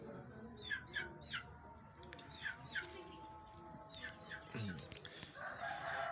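Golden Heavy Buff chickens and small chicks on a poultry farm: repeated peeping chirps, clucks and a rooster-like crow, moderately close, with a faint voice in the background.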